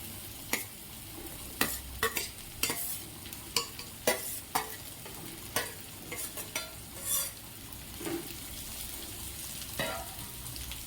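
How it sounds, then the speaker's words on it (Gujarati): Leftover roti stirred and sautéed in a little oil over a low flame, with a steady gentle sizzle and repeated sharp scrapes and clinks of a spoon against the pan, no talk. "એકદમ ધીમા ફ્લેમ ઉપર આપણે તેને બરાબર હલાવી અને થોડી વાર માટે સાંતળવા દેશું"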